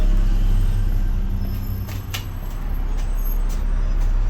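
Inside a Greater Manchester route 330 bus: a steady low engine drone and road rumble fill the cabin throughout, with a few faint rattles and a soft hiss of air near the middle.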